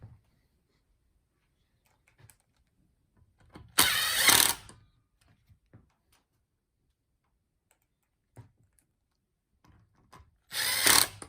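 A power drill drives the four supporting screws into a Levy electric scooter during back wheel replacement, two loud whirring bursts of about a second each separated by quiet pauses.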